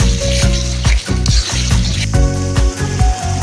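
Ginger and garlic paste sizzling loudly in a hot pan for a chicken curry, with a constant crackling fry broken by rhythmic scraping and thumping as a spoon stirs it several times.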